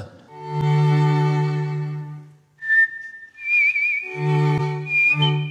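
Someone whistles a steady tune in short phrases, close and clear, alternating with sustained low instrumental notes.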